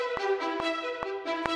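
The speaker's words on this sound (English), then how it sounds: "I've played in a part on the staccato strings that's meant to be all eighth notes" A staccato string section sample plays four short eighth notes quantized tight to the grid, evenly spaced, crisp attacks with brief ringing tones, alone and close.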